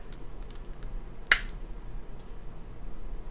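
Detachable heads of a Tiklean electric head shaver for bald men pop apart in one sharp, close click over a quiet background hum.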